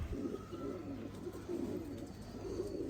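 Sialkoti pigeons from a home breeding loft coo steadily in soft, repeating throaty rolls, close and fairly quiet, with no voices over them.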